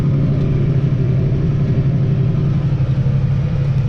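International 986 tractor, bought almost new in 1981, heard from inside the cab as a loud, steady engine rumble with a low drone and no break, running alone.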